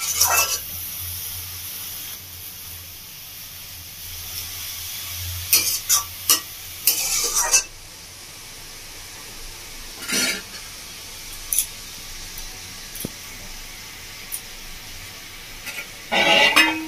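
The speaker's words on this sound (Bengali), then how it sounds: "মূলাটা যখন নাড়ছি দেখুন কত রস বেরিয়েছে।" Radish cooking in a frying pan over a raised gas flame: a low background sizzle broken by several sharp bursts of stirring and utensil scraping against the pan.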